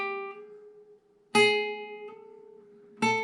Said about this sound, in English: So if your left hand is too early,